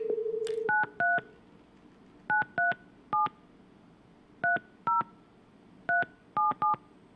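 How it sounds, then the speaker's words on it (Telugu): Telephone keypad tones beep in short bursts, groups of two or three quick presses separated by pauses, clear and fairly quiet. "ఎమ్మెల్యే కోనేటి ఆదిమూలంకి ఫోన్ కలుపుతూ ఉన్నారు బిగ్ టీవీకి సంబంధించినటువంటి టెక్నికల్ టీం."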